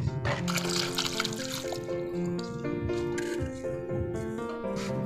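Water poured onto the soil of a freshly repotted hibiscus in a pot, a close steady trickling and splashing with wet gurgles running throughout, with some faint background tones under it.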